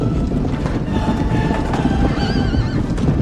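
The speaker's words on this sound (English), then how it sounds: "In the background, the sounds of thousands of horses running echoes" A large herd of horses runs and neighs, with a rumbling wash of hooves under wind noise and a clear, wavering whinny rising above it midway through.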